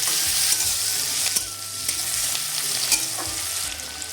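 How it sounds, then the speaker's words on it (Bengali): Onions and green chilies fry in a pan with a continuous close hiss and crackle, broken by the scrape and clack of a spoon stirring them. "এবারে একে একে পেঁয়াজ দিচ্ছি আর সেরা কাঁচা লঙ্কা দিয়ে দিলাম"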